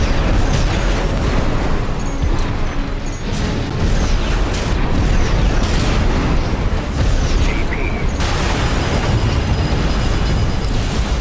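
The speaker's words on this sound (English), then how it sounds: "Little shotgun." A shotgun firing in a video game, with loud, dense booming blasts and gunfire crowding a continuous wall of game noise throughout.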